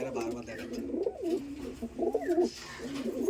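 Teddy pigeons coo at a home loft, giving several close, throaty rolling coos in quick bursts with short pauses between them.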